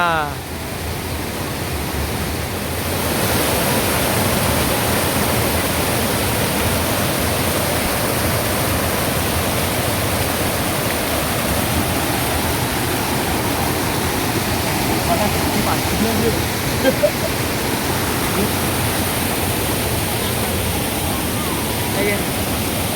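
Water rushes steadily at the Brahman cliff, a loud, dense, unbroken roar like a waterfall that holds at the same level for the whole stretch.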